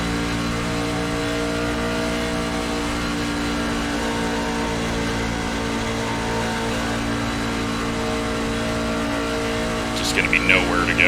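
A pack of NASCAR stock cars racing at full throttle at Texas in the iRacing simulator: a loud, steady, unbroken engine drone with layered tones, holding flat for the whole stretch before a brief flicker near the end.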